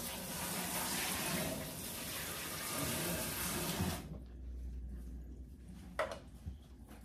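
Running water from a tap pours steadily while hair is rinsed of conditioner, then the flow cuts off and faint handling sounds and splashes follow.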